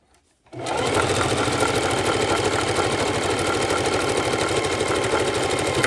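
A sewing machine backstitching a quilt seam starts abruptly after a brief silence, then runs as a loud, steady, rapid mechanical whir with fast rhythmic stitching pulses throughout.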